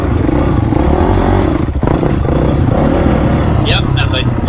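A Honda CRF250X dirt bike revs hard on a trail, nearly lifting into a wheelie, its loud, close engine snarl running throughout with clattering, brief dips and a few sharp squeaks near the end, people talking over it.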